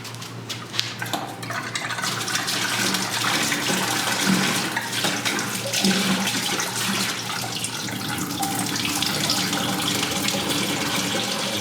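Liquid drains steadily from a white sage distillation separator, a continuous close gushing, splashing flow that runs unbroken from start to finish with no voices.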